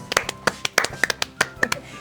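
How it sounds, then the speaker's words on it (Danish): A few people clap irregularly with sharp, close hand claps to welcome a guest at a distillery's Christmas gathering. "Skal vi lige klappe?"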